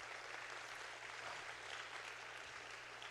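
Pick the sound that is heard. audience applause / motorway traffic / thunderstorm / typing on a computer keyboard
audience applause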